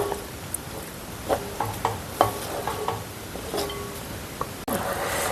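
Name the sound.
koottukari curry with coconut milk boiling in pan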